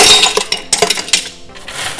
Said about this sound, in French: Donc là mon sucre est bien dur, vous voyez c'est béton. Vous pouvez venir les casser comme ça.